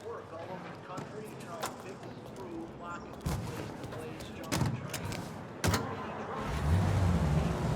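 A car drives in the video game Mafia Definitive Edition, its engine a low steady rumble with a few thumps and clicks, while people talk over it.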